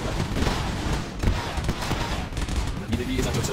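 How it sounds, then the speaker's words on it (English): Gunfire rattles and booms in Command and Conquer: Generals, a dense, continuous barrage of battle noise with rapid bursts and explosions layered together at a steady, loud level. "Machine gun is here."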